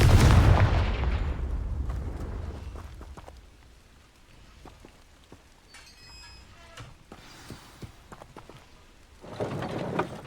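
Confringo fire-blast spells from Hogwarts Legacy strike with booming, crackling explosions that roar loudly at first, then fade into scattered sharp pops and impacts before another heavy blast at the end.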